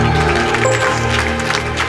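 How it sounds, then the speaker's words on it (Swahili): A church congregation claps together during a worship service, steady dense applause filling the space at close range, with a voice or music lingering beneath the clapping. "Mshangilie Bwana kwa makofi mengi."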